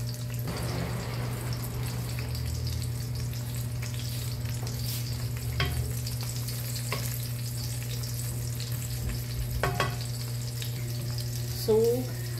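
Aromatics frying in a pan for Filipino jackfruit in coconut milk: a steady sizzle under a constant low hum, with occasional stirring scrapes and a brief louder clatter near the end.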